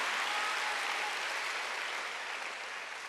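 Congregation clapping together during a Korean church Wednesday worship service, a dense steady wash of applause that holds evenly and fades slightly toward the end, with no voices over it.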